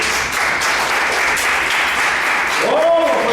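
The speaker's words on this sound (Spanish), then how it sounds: "Den un aplauso al Señor Jesús." Church congregation applauding during a Spanish-language service, a thick continuous clapping texture at high level, with a voice rising over it near the end.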